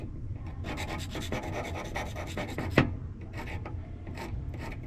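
A file rasps steadily across the winged edge of a WRD trimming blade to put a bevel on it, repeated close strokes with one sharper scrape near the middle, no talking.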